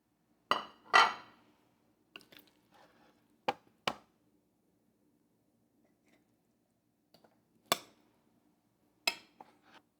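Israeli salad of chopped vegetables with parsley and mint being mixed in a bowl, heard as a few separate scraping and clinking strokes spread out with quiet gaps between them, close and fairly crisp, with no one talking.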